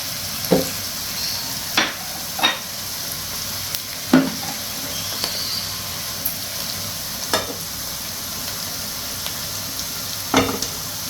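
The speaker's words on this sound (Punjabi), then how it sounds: "ਬਟਰ ਪਾ ਕੇ ਸ਼ਿਮਲਾ ਮਿਰਚ ਤੇ ਪਿਆਜ਼ ਨੂੰ ਥੋੜਾ ਜਿਹਾ ਇੱਧਰ ਸੇਕ ਲਗਾ ਲੈਣਾ ਹੈ" Capsicum and onion sauté in butter in a pan, a steady soft sizzle broken by occasional sharp scrapes and clacks of stirring at irregular intervals, close and without talk.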